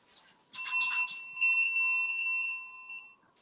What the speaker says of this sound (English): Ringing the bell for you, Miss Rhonda.